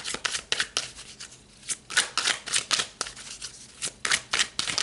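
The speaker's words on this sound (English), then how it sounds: "let's pull some more cards" Tarot cards are shuffled and pulled close by, a run of quick, crisp riffling snaps and slides in irregular bursts with brief pauses between.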